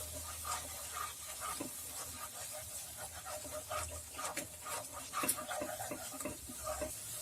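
Spices with a spoonful of yogurt roasting over a medium flame in a pan, a soft continuous sizzle broken by the scrapes and taps of stirring, fairly quiet and close.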